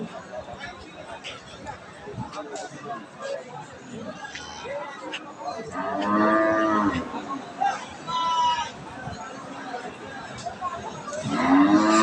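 A pregnant cow at a busy cattle market lets out a few loud, drawn-out moos, close by, amid steady crowd chatter and people talking.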